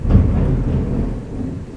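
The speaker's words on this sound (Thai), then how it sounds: "ขณะอัดอยู่ก็ฟ้าผ่าฟ้าร้องฝนตกนะฮะ" Low rumbling thunder with steady rain, heard outside during an indoor recording session; a deep broadband roll that swells early, then lingers as a continuous dull wash, with no talking.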